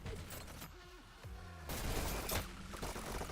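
Rapid submachine-gun bursts in an online shooter video game, loud and close, with a dense fusillade of overlapping shots and a brief lull before firing resumes.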